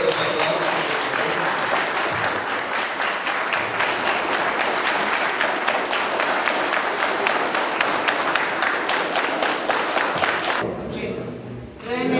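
Wedding guests at a reception in Tula, Tamaulipas break into sustained, dense applause that fills the room for about ten seconds, then fades and thins out near the end.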